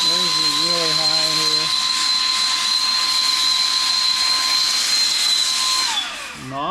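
A Saker 3-in-1 vacuum cleaner blows air on its low setting, giving a steady loud whoosh with a constant whine that winds down at the end, while a person talks briefly at the start.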